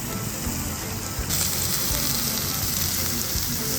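Beef grilling at a Korean all-you-can-eat barbecue restaurant over a straw-fire smoked grill, giving a steady, loud, continuous hiss that grows brighter partway through and persists without pause.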